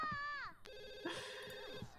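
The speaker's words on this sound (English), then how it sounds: "Ah, phone's ringing." A telephone rings in The Sims 2, repeated electronic ringtone trills sounding bright and close, with a brief game sound between rings and no talking.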